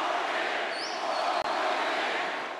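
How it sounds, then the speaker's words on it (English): A large crowd roars steadily in a loud, continuous wash of voices, with a shrill whistle or cry rising above it and one abrupt cut partway through. "Booed and chanted."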